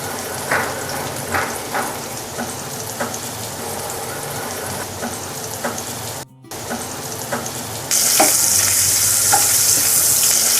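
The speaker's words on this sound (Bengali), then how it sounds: "তেল কিছুটা তেতে উঠলে দিয়ে দিচ্ছি পেঁয়াজ" Chopped onion and green chili frying in hot oil in a wok, with a steady close sizzle, scattered stirring scrapes and spatters, and a brief dropout before the hiss grows louder and brighter toward the end.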